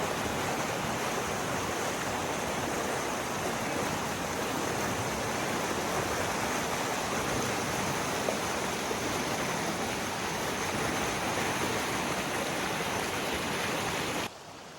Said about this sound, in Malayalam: ഒരു നീർച്ചാലാണ്, വെള്ളം ഒഴുകി പോകുന്ന ഒരു സ്ഥലമാണ്.